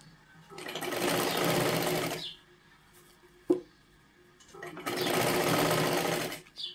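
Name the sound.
sewing machine stitching a katori blouse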